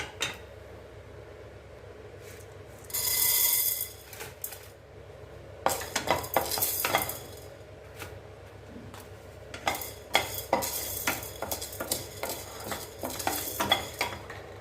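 Black urad dal dry-roasts in a pan for chilli idli podi, with intermittent scraping and clinking as the utensil stirs and a faint background hiss, and no voices.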